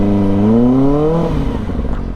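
A motorcycle engine revs with a rising whine that climbs steadily, then drops off into rough, uneven rumbling.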